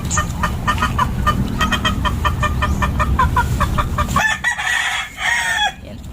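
A blue hatch gamefowl stag crows several times in a steady repeated pattern, with clucking mixed in and a loud low barnyard rumble underneath, then calls more sparsely near the end.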